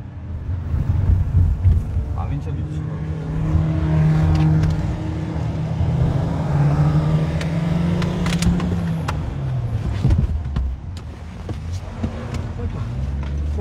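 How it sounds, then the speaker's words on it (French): A car passes slowly through a noisy outdoor crowd at a police arrest scene, its engine note rising and falling near the listener while many voices talk and call out around it. "C'est la voiture Vipsu, hein, de Pravin Jagnnath"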